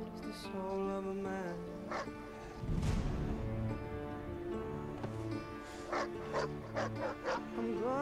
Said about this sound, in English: Easy, dog. Don't bite.